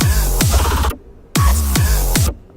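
Heavy dubstep bass opening a drop, with loud sub-heavy growling blasts that cut off abruptly, a short silent gap, then two more distorted bass hits in a choppy rhythm.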